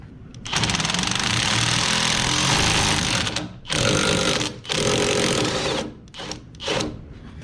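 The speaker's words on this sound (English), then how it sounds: "So let's go ahead and get that 3rd bolt off." An impact wrench with an 18mm socket removing a lift kit bolt from a 2021 Chevrolet Silverado Trail Boss during a ReadyLIFT SST install, a loud, steady buzzing whir lasting several seconds, then two shorter bursts and a couple of quick blips.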